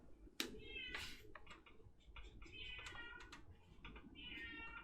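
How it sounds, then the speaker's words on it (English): A cat yowls and meows repeatedly outdoors, its loud drawn-out cries coming in several bursts over steady background noise, with birds faintly audible at times. "the cat is going ham out there"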